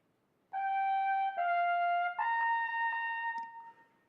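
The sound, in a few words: trumpet playing method book exercise, page 8 number 30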